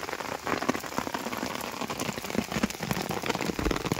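Steady rain falling in the Rudranath jungle under a heavy weather alert, a dense close patter of drops on leaves and ground, continuous and fairly loud with no voices.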